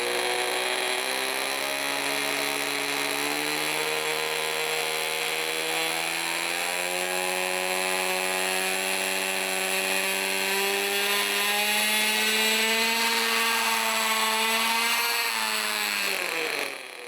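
A fifty-year-old radio-controlled model helicopter flies with a loud, steady mechanical whine that climbs gradually in pitch as the motor spins up, running close and continuous before cutting off abruptly at the end.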